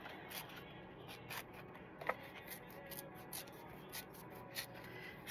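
Paper tears in short, quiet rips for a scrapbook layout, repeated rhythmically and heard close but faint, with no talking.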